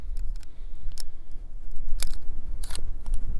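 A handgun magazine snaps into place during a supervised shooting lesson, giving a few sharp metallic clicks and clacks over a steady low rumble of outdoor background noise.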